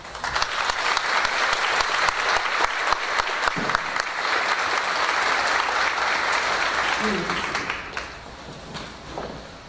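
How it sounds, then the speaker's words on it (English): A large audience at a high school senior awards day applauds students, a thick, sustained roar of clapping that holds steady for several seconds, then thins and fades toward the end. "Please join me in giving these students a round of applause"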